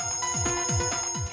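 A person imitates a mobile phone ringtone with the voice, giving a rapid series of repeated sliding tones in a steady rhythm, loud and close.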